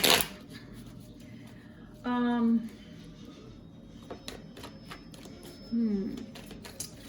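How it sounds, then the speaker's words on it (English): A tarot clarifier deck is shuffled, with quick rhythmic riffling bursts of cards, close and crisp, alongside some faint low sounds in between. "Let me shuffle this clarifier real quick."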